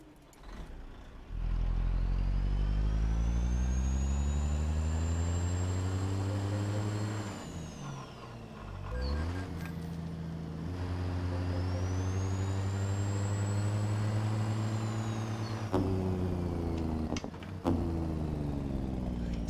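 Heavy truck engine with a Jake brake from a ZEEMODS engine pack in a trucking video game. Deep harmonic engine drone rises and falls twice, with a rattling brake section between the two passes.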